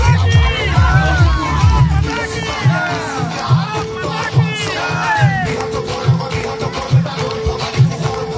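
A large crowd cheering and shouting at an election rally in Barpeta Road, Assam, where Prime Minister Narendra Modi was expected, with loud, continuous jubilant voices, whistles and rhythmic drumming close by.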